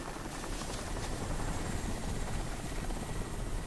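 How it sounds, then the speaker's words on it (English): A helicopter flying overhead in the video game Crysis Warhead, a loud continuous rotor thrum and engine roar filling the scene without pause. "can you track that helicopter?"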